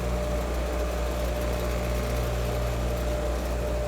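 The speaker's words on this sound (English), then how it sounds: "main power switch is to the right, and that turns on the buffing wheel" A bench buffing wheel hums steadily after being switched on, a continuous motor drone with tonal whine, loud and close, running alone without talk.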